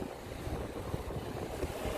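Gusting wind blows outdoors beside a boat, a steady rough rushing buffet that swells and eases over two seconds, with no voices.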